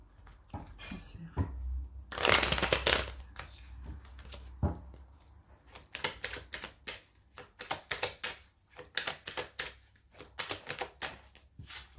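A Rider-Waite tarot deck is shuffled up close in quick riffling bursts of papery flutters and soft slaps, with brief pauses between runs and a voice speaking in places.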